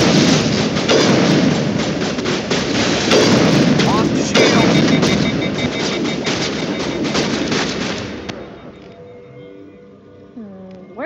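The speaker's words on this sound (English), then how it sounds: "someone's trying to shoot at me." Enemy gunfire during a Mass Effect combat fight, loud dense bursts of shots and booming impacts packed together for about eight seconds, then dropping away into quieter game sounds.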